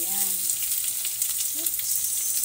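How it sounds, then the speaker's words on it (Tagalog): White onion and garlic sizzle steadily in a hot pan, a continuous bright frying hiss under a brief murmur of a voice. "Start na tayong mag-gisa mga mahal ko. Unahin ko ng aking white onion."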